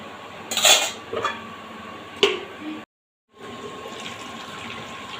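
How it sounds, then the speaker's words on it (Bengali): A metal lid clatters onto a cooking pot of fish-bone curry with a few sharp knocks and clinks, then a brief cut to silence and a steady quiet simmer. "এবার ঢাকা চাপা দিয়ে দেব দিয়ে ফুটতে দেব"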